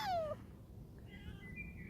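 A friendly street cat in a Dutch city gives a short, clear meow at the start, followed by faint higher mewing sounds over quiet background noise, with no one talking.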